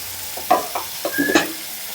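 Chopped tomatoes with salt frying in a pan, a low sizzle under several quick scraping stirs and clinks of the spoon against the pan.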